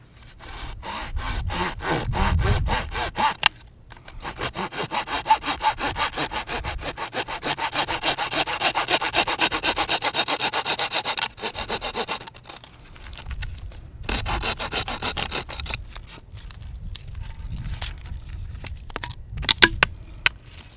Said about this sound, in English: I'm going to cut below it so I have an entrance to put my medicine in there